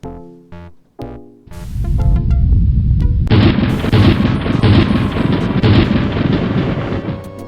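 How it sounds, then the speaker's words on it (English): Thunderstorm in the point-and-click adventure game Day of the Tentacle: a few sharp cracks open into a loud, sustained rumbling roar of thunder and rain that fills the rest of the stretch, with no talk over it. "Looks like a big storm."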